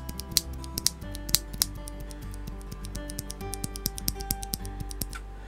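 A freshly lubed mechanical keyboard switch is pressed over and over, giving a quick series of crisp, close clicks and clacks in an uneven rhythm.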